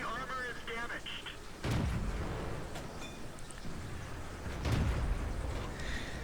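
World of Tanks T21 tank cannon firing on an arctic map: two heavy booming shots a few seconds apart, each with a long rumbling tail, under steady battle noise and a game voice.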